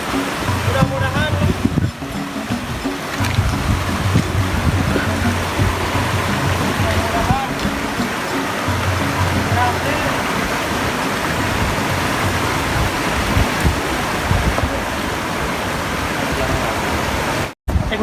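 Water from a tap pouring steadily into a shower basin outdoors, a constant loud rushing splash that runs without a break, with faint voices mixed in.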